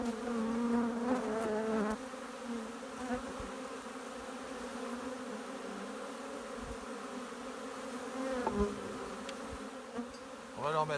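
Honeybees buzzing around beehive frames, a dense steady drone of many insects close by, with occasional handling knocks and a brief voice near the end.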